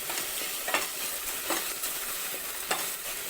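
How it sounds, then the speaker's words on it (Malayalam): Finely chopped tomatoes sautéed with softened onions in a pan for a tomato lentil curry, a continuous bright sizzle broken by a few scraping stirs, close and alone. "നമ്മുടെ ഉള്ളിയൊക്കെ ഒന്ന് വാടി വരുമ്പോഴേക്ക് തക്കാളി കട്ട് ചെയ്ത് വെച്ചിട്ടുള്ള ചേർത്ത് കൊടുക്കാം."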